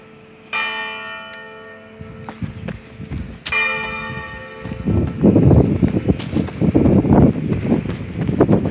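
Church bell at Friendship Church in Buena, New Jersey striking noon, two loud ringing strokes with long resonant decay, followed by rustling and handling noise close to the microphone.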